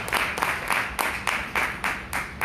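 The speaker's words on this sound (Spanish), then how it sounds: "¿Me puede dar un aplauso al Señor en esta noche?" Church congregation clapping for the Lord during an evening service, with sharp, evenly spaced rhythmic claps in unison, roughly three per second, moderately quiet and steady.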